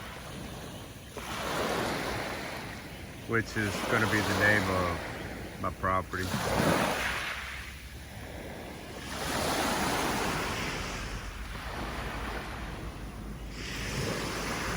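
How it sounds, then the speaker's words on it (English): Ocean waves roll onto a beach in Antique, Philippines, the surf swelling and receding in broad washes with wind buffeting the microphone while someone talks over it. "Just a little wave sound."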